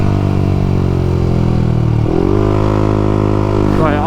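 A 2020 Yamaha YZF-R125 motorcycle riding and accelerating, its engine droning loudly up close, dipping at a gear change, then rising again as it pulls along a straight; a rider's voice is faintly present.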